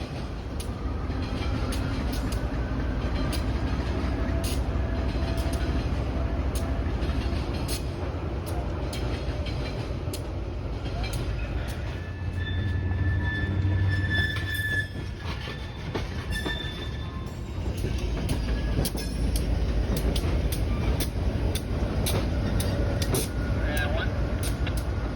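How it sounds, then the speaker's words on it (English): Fore River Railroad locomotive 102 moves a string of tank cars: a steady, loud rumble with clanking couplers, wheel squeal and clickety-clack, with a voice heard over the train noise. "102 then uncoupled from its string of tankers and proceeded east past the switch."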